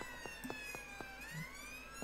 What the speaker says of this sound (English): Can you hear my siren?